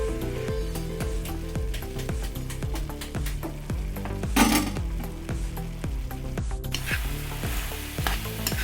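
Beans and potato curry with tomatoes stirred in a pan, a continuous close sizzle under rhythmic scraping strokes of a spoon, with a brief louder clatter midway and no talk.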